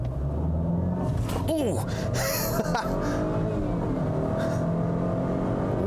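A 2019 Volvo XC40 T5 with 248 horsepower pulls hard in dynamic mode, its engine rumbling and rising steadily from inside the cabin while a person gasps and exclaims over the noise.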